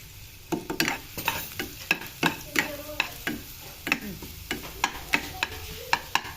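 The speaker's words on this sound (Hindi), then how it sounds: "ऑयल में हम डाल देंगे 1 टेबलस्पून लहसुन का पेस्ट। इसको थोड़ा सा भूनेंगे" Garlic paste frying in oil while a spoon stirs it, giving a steady sizzle broken by frequent sharp scraping clicks against the pan, close and fairly even in rhythm.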